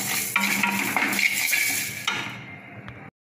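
Black pepper, fenugreek seeds and rice dry-roasting in an empty pan, giving steady scraping and light rattling under stirring, close and moderately loud, that stops sharply near the end.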